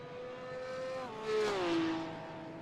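A V8 race car from the V8 Vets championship in iRacing at Bathurst, its engine a steady mid-distance drone that steps down in pitch and then swells louder as it settles into a lower note.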